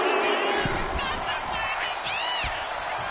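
Arena crowd noise from a WWE 2K25 women's wrestling match on PS5, a steady roar of cheering and shouts held at a constant level throughout, with a rising whistle-like tone near the end.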